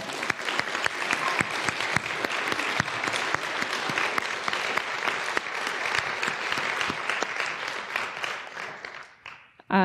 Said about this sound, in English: So can we all give Dana a clap?